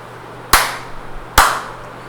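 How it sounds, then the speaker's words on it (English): Two sharp hand claps spaced under a second apart, crisp and close against a quiet room. "clapping your hand"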